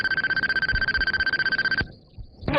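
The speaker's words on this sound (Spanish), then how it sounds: "Durante ese velatorio el teléfono sonó, pero el contestador saltó antes de lo programado." A telephone rings in a rapid pulsing electronic trill, loud and close, then cuts off abruptly as an answering machine picks up with a click and brief hiss.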